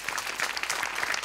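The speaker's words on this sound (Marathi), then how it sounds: "अमोल पाटील आणि अभिजित पवारांसाठी एकदा टाळ्या" Brisk, dense audience applause at a Marathi comedy show, a short, even burst of clapping with no talking over it.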